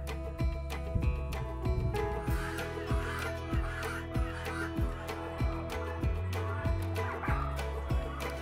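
Turkeys gobble on a mixed farm raising poultry, with repeated bird calls layered over a steady rhythmic mechanical thumping and a low drone, loud and close throughout.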